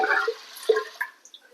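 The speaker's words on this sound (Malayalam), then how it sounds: "1 കപ്പ് വെള്ളം ഒഴിച്ചിട്ട്" A cup of water is poured into a pressure cooker holding rinsed raw rice while making fenugreek rice porridge: a short splashy pour up close, followed by a few small drips and splashes.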